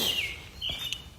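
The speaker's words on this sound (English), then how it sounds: "Wow, this bird is really loud." A loud bird calls outdoors, giving a few sharp, high chirps close by with no other sound.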